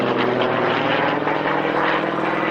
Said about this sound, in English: Not the most powerful aeroplane in the world, pushing up, holding it vertically, holding it on the propeller